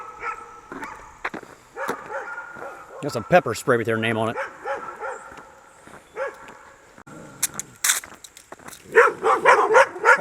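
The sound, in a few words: dogs barking at a hiker on a road walk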